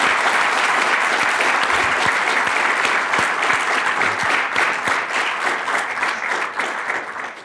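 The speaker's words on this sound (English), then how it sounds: "Give them a round of applause." A forum audience applauds with loud, steady, dense clapping that holds throughout and eases slightly toward the end.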